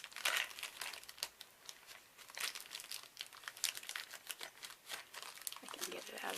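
Plastic packaging around a set of Speedball carving knives crinkles and crackles in quick irregular bursts while being unwrapped close by, continuing throughout the clip.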